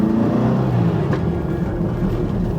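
A Porsche 914 safari build drives on a wet road in the rain, its engine a steady, loud low rumble with tire and road hiss, close to the microphone.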